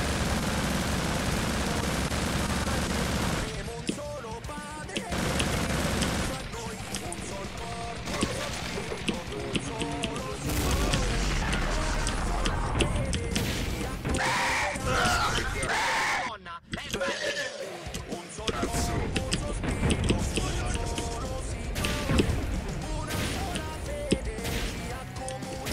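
Rapid gunfire and bursts of shooting from the video game Hatred, dense and loud through most of the stretch with crashes mixed in, with talk alongside in places.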